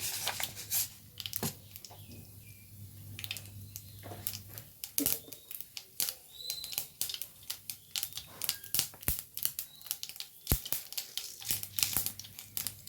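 Mustard seeds crackle in hot oil in a pan, with sharp scattered pops and crinkly spitting bursts arriving irregularly over a low background hum, close and fairly quiet.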